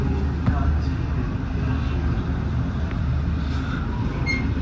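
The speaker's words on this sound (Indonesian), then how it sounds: "persiapan kereta api Argo Semeru akan segera berangkat ya dari stasiun Kroya" Argo Semeru executive train departing Kroya station, a continuous low rumble of rolling wheels and carriages with faint squeals and clanks, steady and close throughout.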